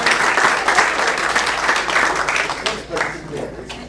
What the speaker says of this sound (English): So let's give everybody a round of applause.